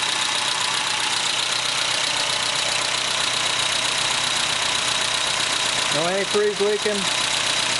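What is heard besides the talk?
Mazda B2200 engine idling after timing belt change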